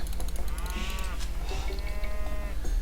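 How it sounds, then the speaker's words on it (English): Two drawn-out moos from a cow in Age of Empires II HD, low and bellowing, set over a steady layer of in-game ambience. "Cow found"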